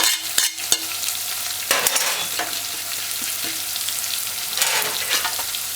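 Thyme, pimento seeds and dry herbs frying in a pot for Run Dung, a steady sizzle broken by a few spoon clinks and scraping stirs, close up with no talking.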